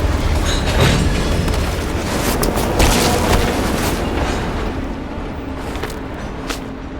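A train slowing down in the video game Black Ops Cold War: a loud, continuous rail rumble with scattered metallic clanks and thumps that eases slightly toward the end, with no voices.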